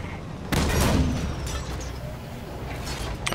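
A shotgun blast in the Halo 5 Warzone video game hits with a sharp, loud burst and rings off into a lingering rumble, with faint clicks of other game sounds trailing behind.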